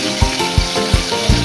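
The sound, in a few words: crushed garlic, cumin and mustard seeds frying in oil in a wok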